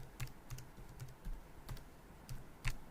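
A password being typed on a computer keyboard while filling in an online form: quiet, close key clicks tapping in an irregular rhythm, about half a dozen distinct presses, with no talking.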